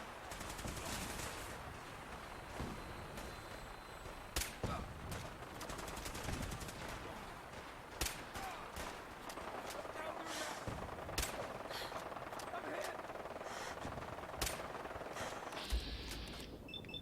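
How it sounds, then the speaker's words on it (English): Rapid bursts of automatic gunfire and single shots in the video game Fallout 4, crackling loud and near in a dense, continuous battle with sharp repeated cracks. "they're shooting my friends"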